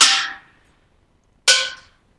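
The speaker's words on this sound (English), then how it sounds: "I'm playing a regular pan and a prepared pan with rubber bands" Two struck notes on a steel pan prepared with rubber bands, each a bright close metallic hit whose ring is damped quickly and dies away within about half a second, separated by a gap of silence.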